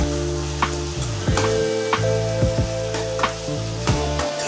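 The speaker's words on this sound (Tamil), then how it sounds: "எல்லா வெங்காயோட பச்சை வாசனைலாம் போய் நல்லா வதக்கட்டும்." Chopped onions and tomatoes sauté for a fish curry, a steady close sizzle with the scrape and clatter of a spoon stirring the pan at irregular intervals, no voices.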